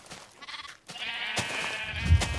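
A sheep bleats in the Minecraft video game, a few short wavering calls close up, followed by a denser stretch of game sound effects with no talking.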